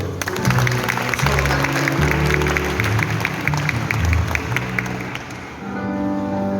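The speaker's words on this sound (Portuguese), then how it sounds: "Aplauda o Senhor." A church congregation applauds during an evangelical service, steady clapping mixed with sustained musical tones underneath, fading slightly near the end.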